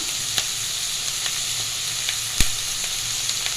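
Sliced onions and green chilies with salt sizzle in hot oil in a frying pan, a steady close hiss with a few small pops and one sharper crackle, no talking.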